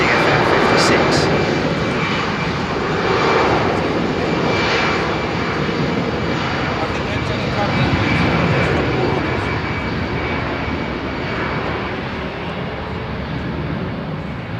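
A jet airliner with CFM56 engines at Heathrow Airport roars loudly and continuously for the whole stretch, a broad rushing engine noise slowly easing, with people talking faintly beneath it.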